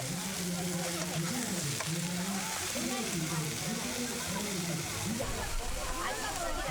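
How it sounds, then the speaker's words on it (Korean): Pungcheon eel sizzles and crackles steadily on a grill at a seaside tasting event in Gochang, with a voice talking over it throughout. "지글지글 타들어가는 소리에 절로 입안에 침이 괭다."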